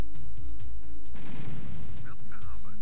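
Artillery fire in Command and Conquer Red Alert rumbles as a short burst of booms amid steady game noise, with a voice talking over it.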